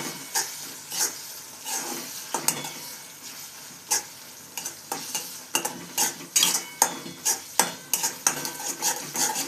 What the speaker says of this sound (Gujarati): તેને બરાબર હલાવી લઈશું.